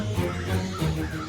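Crows in the heat give a brief burst of caws, a short, moderately loud call lasting just over a second with nothing else heard.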